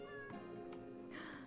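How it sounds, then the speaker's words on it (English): A single drawn-out meow from a cat in the video game Masquerada: Songs and Shadows, faint and mixed into a continuous game soundtrack. "Meow, hi kitty."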